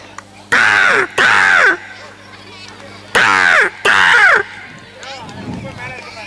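A voice mimics a crow, giving four harsh, loud caws in two pairs, close to the listener, with a faint low murmur after.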